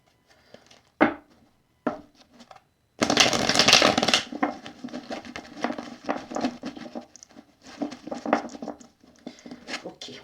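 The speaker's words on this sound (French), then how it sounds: "On remélange encore une dernière fois." A deck of oracle cards is shuffled by hand: a dense, loud riffling burst of cards, then a longer stretch of softer, crackly flicking and sliding, with a few separate taps near the start.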